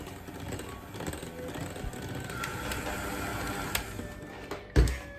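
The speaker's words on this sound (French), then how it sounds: "Je travaille avec le batteur." An electric hand beater whirs steadily while it works egg yolks into a Japanese cheesecake batter, a continuous buzzing motor close by with a brief louder clatter near the end.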